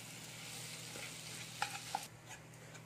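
Boiled, hand-mashed potatoes are stirred into spices in a hot pan, giving a quiet, low sizzle with a couple of sharp utensil taps near the end, heard close with no voices.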